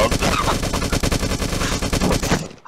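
Rapid automatic gunfire from the video game SCP Destroy Humanity 2 demo, loud and continuous bursts of shots for more than two seconds before cutting off abruptly, with a voice talking faintly underneath.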